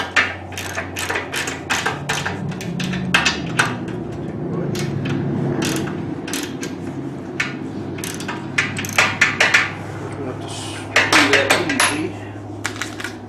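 A nut is tightened by hand onto a bolt with a flat washer while assembling an XMark 7604 adjustable weight bench, giving scattered sharp metallic clicks and clinks against a low steady hum, with someone talking at times.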